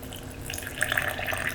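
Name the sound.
adding water to strawberry sorbet in blender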